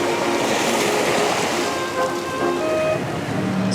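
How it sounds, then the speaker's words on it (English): Ocean waves rolling in near the shore in Lisbon, Portugal, a steady broadband wash of surf with wind noise that continues throughout, loud and close. "It's so close to the ocean right there, and all these waves are moving on in."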